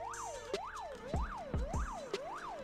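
A police car siren in the GTA role-play game wails in a steady rising-and-falling yelp, loud and close, repeating about every half second with sharp clicks and thumps underneath and no talk.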